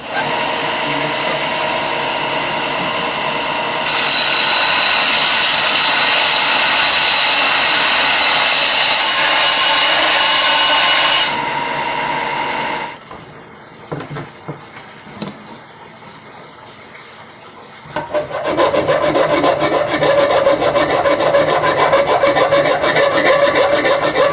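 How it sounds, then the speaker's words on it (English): A belt sander grinds and shapes a forged railroad spike into a knife, a loud continuous abrasive rasp that cuts out briefly with scattered handling noises before the sander roars back up. "I'm gonna start grinding down and shaping it on the belt sander"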